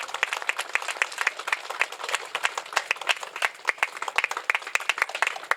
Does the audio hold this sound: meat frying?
no